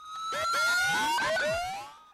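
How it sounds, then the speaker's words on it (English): Several emergency sirens wail at once, their pitches sweeping up and down and crossing over each other, loud and close on a New York City street in September 2001. "New York is always noisy, but these days it's wailing."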